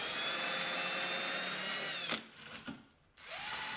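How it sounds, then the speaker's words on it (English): A power drill countersinks screw holes in wood on a CNC-made floating shoe shelf, whirring steadily and loud for about two seconds before short bursts, a brief pause, then resuming. "And then countersink the holes on one side."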